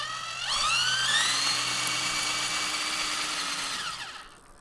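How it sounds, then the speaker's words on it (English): A cordless drill driving a bicycle spins up with a rising whine, holds a steady high pitch for about three seconds, then winds down, fairly quiet and alone. "That was electric. That was powered by the drill."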